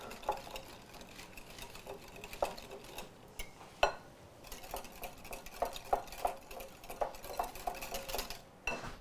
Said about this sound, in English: Then I'm going to whisk in my buttermilk.